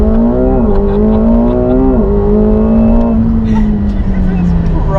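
McLaren 720S launching hard from inside the cabin, a loud continuous engine roar climbing in pitch with brief dips at gear changes, then settling, with voices heard over it.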